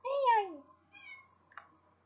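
A pet cat gives one loud, close, drawn-out meow that falls in pitch, followed by a fainter second call and a brief click, in a quiet indoor room.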